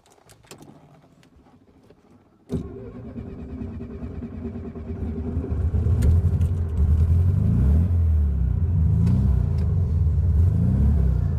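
A 1967 VW Beetle's air-cooled engine hums steadily at low pitch while the car drives, with a sharp start-up thump then a continuous rumbling drone that swells slightly as it accelerates, close and loud throughout.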